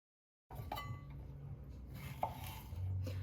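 A knife cuts through a homemade vegan sushi roll on a board, a few soft taps and faint scraping contacts, quiet and close, with no voices.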